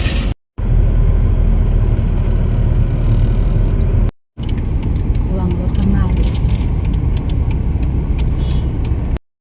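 Riding in a car on the way to a noodle shop in Chanthaburi, Thailand: a steady loud interior road rumble and engine drone, broken by two brief dropouts into silence.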